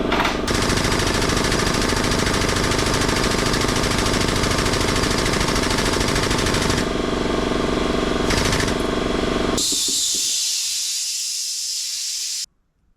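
A powered tube bender grinds with a steady, loud mechanical drone and hiss while bending tubing, then winds down and cuts out near the end.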